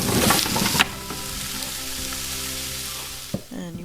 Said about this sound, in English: hopefully you can hear the sizzling sound to this because it's amazing